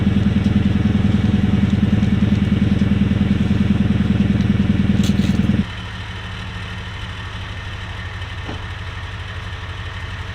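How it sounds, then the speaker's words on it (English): A Toyota Tundra (2016–21) with a slant-cut cat-back exhaust idles close by with a deep, steady burbling rumble, which drops abruptly to a quieter, smoother idle partway through; no talking. "We get to hear the idle"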